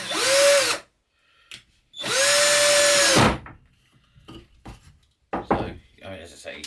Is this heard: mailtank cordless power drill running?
yes